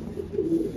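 A Chocolate Dama pigeon in a home loft gives a single short, low coo, close and alone.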